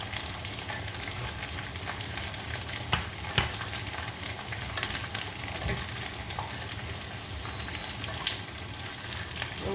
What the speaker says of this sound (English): It's beginning to bubble. So you see it's puffing up.